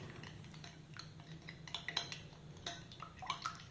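Sugar and eggs get whisked in a bowl for caramel custard pudding, quiet scattered clinks and taps of the utensil against the dish in uneven bursts.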